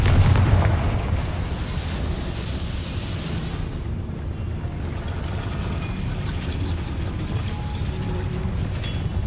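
A Confringo fire spell explodes in Hogwarts Legacy with a heavy, booming blast at the start, then a sustained rumbling roar that fades slowly.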